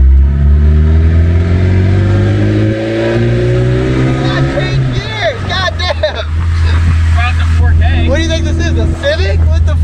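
A classic Toyota truck drives along with a loud, close engine drone that shifts through rising gear pulls and revs, heavy rumble throughout, while people talk over the engine noise.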